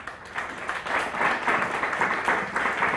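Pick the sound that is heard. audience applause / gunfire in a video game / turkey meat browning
audience applause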